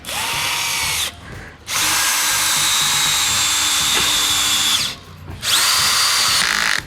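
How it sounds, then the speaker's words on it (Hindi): A Bosch GSB 18V cordless impact drill driver set to first gear drives a screw, a loud close whirring motor in long runs with two short pauses between bursts. "ये देखिए चंद सेकंड में इसने कैसे आसानी से स्क्रू को यहाँ पे स्क्रू कर दिया है।"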